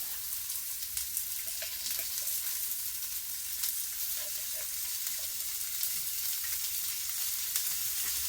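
Minced garlic frying in a pan, a steady close sizzle and crackle with small pops throughout.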